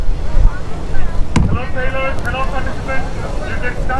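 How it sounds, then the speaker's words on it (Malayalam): Sailboats launch toward the start line at sea during the Beypore water fest 2021, with constant buffeting wind and water rush, a sharp knock near the middle, and voices in the background. "ബോട്ട് ഇറങ്ങുന്നുണ്ട്"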